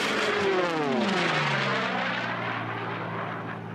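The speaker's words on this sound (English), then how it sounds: "hear the difference between those massive engines in the Sea Furies and the engine in the P-51" Hawker Sea Fury and P-51 racing aircraft roar past at the 2022 Stihl National Championship Air Races, a loud, droning piston-engine flyby whose pitch sweeps downward as the planes pass and recede.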